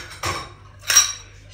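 Dishes clinking and clattering as they go into a home kitchen dishwasher, two short bursts of ceramic and cutlery knocks with a pause between, fairly close, no talking.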